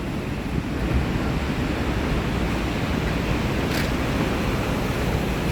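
Strong, rough sea surf at Shanghumukham beach on a rainy day: a dense, continuous roar of crashing waves mixed with wind buffeting the microphone, loud and unbroken with no clear separate breakers.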